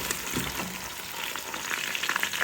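Taro root (arbi) fries in hot oil, giving a steady, soft sizzle with small crackles and pops throughout and no voices.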